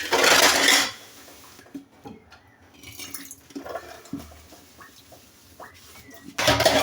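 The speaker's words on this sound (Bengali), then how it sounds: "একটু ভিমবার দিয়ে মেজে নেব।" Dishes being scrubbed with a Vim dishwashing bar in a home kitchen: close clinks and knocks of utensils and pots, with brief runs of water and drips between them.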